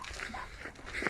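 A K9 tracking dog out on a search makes brief whiny, snuffling vocal sounds up close for about a second.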